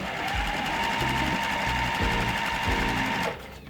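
Sewing machine running steadily while stitching a quarter-inch seam on quilt pieces, a close, continuous mechanical whir with a rapid rhythmic needle chatter that cuts off near the end.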